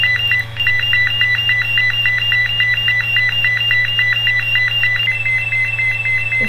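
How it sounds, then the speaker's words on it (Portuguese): Home security alarm sounding continuously with a rapid, repeating electronic beeping pattern over a steady low hum, loud and close throughout. "esse é de alarme de casa"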